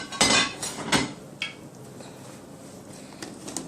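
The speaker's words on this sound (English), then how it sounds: "I'm gonna stir this up" A pot of Jamaican chicken foot pumpkin soup being stirred, with a few sharp clinks of a utensil against the pot near the start, then quieter scraping and low background hiss.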